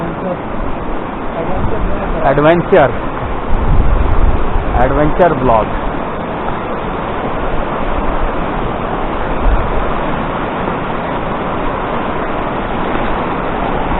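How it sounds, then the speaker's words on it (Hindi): Fast-flowing Himalayan river current near a campsite on the route from Om Parvat to Nabi village, a steady broadband rush running throughout at moderate level, with a person speaking briefly over it. "और ये देखिए नदी की तेज धारा।"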